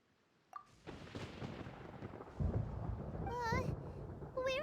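Thunder rolls in Genshin Impact: a sudden crack, then a sustained heavy rumble that builds louder, with a voice speaking partway through.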